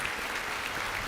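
A church congregation claps for the Lord in a dense, continuous burst of applause, loud and close, with no voices over it.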